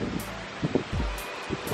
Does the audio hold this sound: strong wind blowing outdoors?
yes